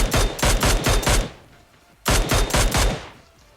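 A Mini rifle fires in a battle royale video game in two bursts of about five rapid, punchy shots each. The bursts are separated by a short gap, and each volley trails into a fading echo.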